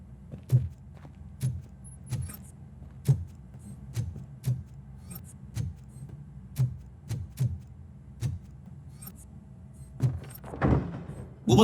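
A door being opened in RoboCop: Rogue City: a regular series of heavy mechanical thunks and clanks repeating about every half second, ending in a louder grinding, scraping burst.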